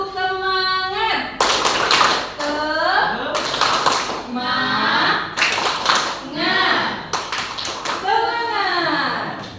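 A class of students does the 'tepuk semangat' spirit clap, with quick bursts of group rhythmic clapping alternating with chanted and spoken voices in a lively indoor setting.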